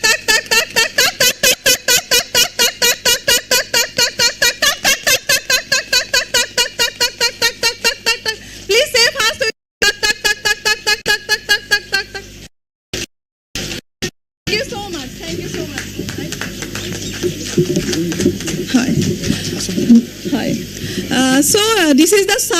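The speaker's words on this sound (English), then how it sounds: "So this is the sounds that Hargila birds do in the nest." Greater adjutant storks (Hargila) make rapid, rhythmic clattering pulses at the nest, a long fast run of evenly spaced knocks that breaks off, followed by a rougher, noisier stretch with some voices.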